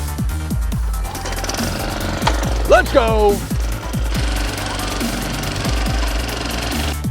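A lawn mower's engine fires up for the season's first mow, settling into a loud, rapid, close chugging beat, with a brief excited shout in the middle.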